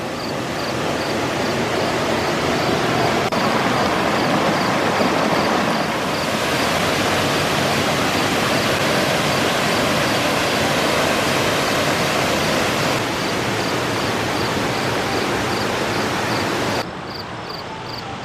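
A waterfall at Ratcliffe Falls, down in a tree-shaded gorge, roars as a steady loud wash of broadband noise that stays even throughout with no voices.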